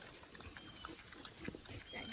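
Two pigs on a farm give soft, scattered grunts and oinks at low level, mixed with faint background voices and outdoor noise.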